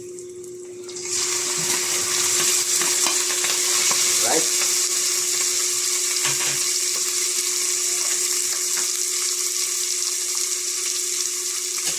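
Onion and garlic sautéing in a pan with meat, a sudden onset of loud continuous sizzling hiss that stays steady, with a low hum and a few faint clinks beneath it.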